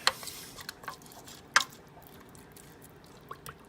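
Wet squelching and dripping as chicken is stirred in water in an Instant Pot, with a few sharp clinks of a utensil against the pot, close by and fairly quiet.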